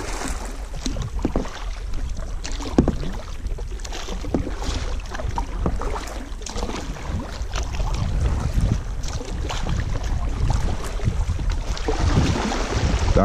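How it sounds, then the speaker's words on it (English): Canoe paddling through the Okefenokee Swamp, paddle strokes splashing and dripping at close range in an irregular rhythm, with hull knocks and light wind noise between strokes. "Now paddle straight."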